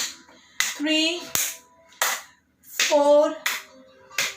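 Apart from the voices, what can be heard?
hands clapping during a yoga exercise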